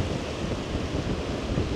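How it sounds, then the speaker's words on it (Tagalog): Strong gusts at Boracay beach buffet the microphone in a loud, continuous roar, a dense rumbling wind with surf-like wash and no voices. "Grabe yung hangin, galit na galit."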